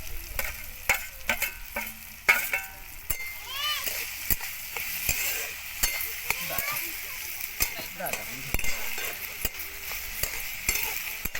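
Tomatoes and chillies fry in a pan for a drumstick-leaf vegetable dish, with a steady soft sizzle, occasional spoon clinks and stirring scrapes, while someone talks over it.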